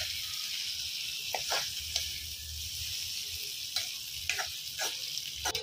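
Fish roe frying in hot oil in a home Telugu kitchen: a steady, close sizzle carries on throughout, broken by occasional sharp clicks and taps as the pan is stirred.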